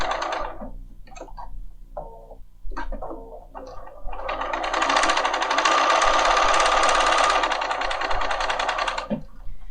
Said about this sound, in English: you will see that it just starts sewing.